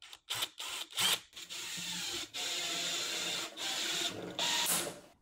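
A handheld pop rivet tool sets a rivet with a series of short, close mechanical squeezes and clicks in quick bursts separated by brief pauses, ending in a sharper snap, with no speech.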